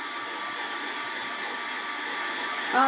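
A blow dryer runs at a steady, fairly loud whir throughout, with a brief louder flutter right at the end.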